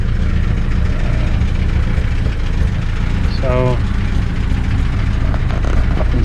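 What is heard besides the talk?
1929 Whippet car engine running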